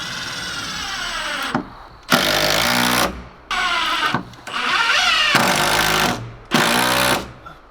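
A power drill drives screws through OSB sheathing into wall studs at a cabin build, five loud whirring bursts of a few seconds each, the motor pitch rising as each screw seats, separated by short pauses.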